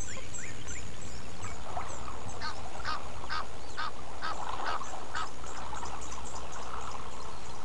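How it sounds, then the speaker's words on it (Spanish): Whistling ducks call in a chorus of high, thin repeated whistles by Lake Baringo, an African lake, over a steady wash of background noise and distant birdsong. "El pato arborícola,"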